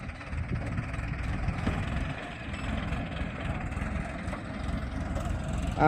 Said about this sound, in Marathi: ट्रॅक्टरने द लेवल करीत आहे बघा मित्रांनो बघू शकतात